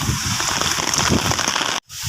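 Heavy storm rain pours steadily on a surface at Talim Island during a fishing trip, a dense, close hiss that cuts out abruptly for a moment near the end before resuming.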